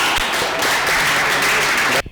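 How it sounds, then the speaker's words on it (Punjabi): A crowd at a Punjabi literary award ceremony claps steadily and loudly for about two seconds, then the applause cuts off abruptly. "ਭਰਪੂਰ ਤਾਲੀਆਂ"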